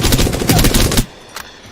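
The Havoc energy assault rifle fires a rapid, loud automatic burst of about a second in a shooter video game, then cuts off into a quiet tail with a faint extra shot.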